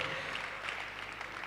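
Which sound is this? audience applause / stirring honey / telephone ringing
audience applause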